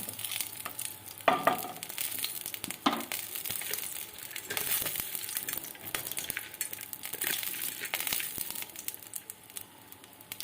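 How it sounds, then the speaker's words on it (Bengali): Cardamom and cinnamon stirred in hot oil, with a bay leaf, make a crackling sizzle close by, with irregular scraping stirs and a few sharper knocks. "আর ওই এলাচ দারচিনিগুলো দিয়ে দিলাম দিয়ে একটু নাড়িয়ে চাড়িয়ে নিয়ে"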